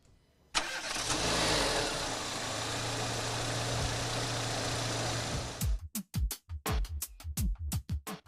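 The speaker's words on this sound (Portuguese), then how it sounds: "Vamos comparar agora com outro motor, que é o motor a gasolina, convencional, que todo mundo conhece. Vamos ouvir o barulho desse motor." Conventional gasoline car engine running steadily at idle with a low, even drone, loud and close, then breaking into a series of short revs or bursts near the end; no talk.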